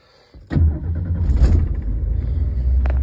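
1973 Mercury Comet engine cranking and catching, a short starter whir then a sudden loud roar that settles into a steady, close, rumbling idle.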